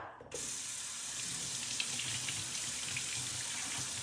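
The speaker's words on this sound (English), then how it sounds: "I'm gonna go ahead and rinse my pasta" Pasta is rinsed under a running kitchen tap, water streaming steadily into the sink with a soft hiss and a faint clink, close and continuous after a brief rattle at the start.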